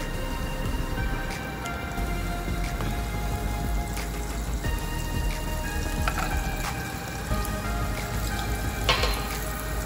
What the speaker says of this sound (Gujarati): डुंगळी ने बटर में सांतळवानी छे।